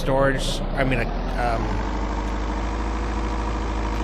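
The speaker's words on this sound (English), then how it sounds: "The sound of the vehicle, that just sounds like you're driving." A steady vehicle engine idle from the video game Vein rumbles throughout, with brief game-like effects and a faint voice near the start before settling into a constant low drone.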